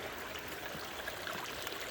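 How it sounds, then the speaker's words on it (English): Steady rushing and trickling of water from a garden pond waterfall, a continuous, moderately quiet wash with no voices. "So I have 2 inputs into the pond. One is in this waterfall, and you can see the aeration there."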